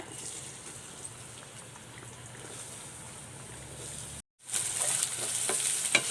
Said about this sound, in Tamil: கடுகு பொரிஞ்சதுங்க வெங்காயத்தை சேர்த்துக்கிறேன் எண்ணெயில்.